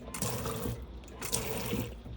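Water runs from the tap of a Burstner Nexxo T660 motorhome under its pump, a close, steady splashing flow that swells and eases twice.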